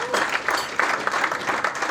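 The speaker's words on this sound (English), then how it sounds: "so a little round of applause for that." Applause from an audience at a helicopter-themed technical presentation, a brief steady patter of many hands clapping at moderate volume.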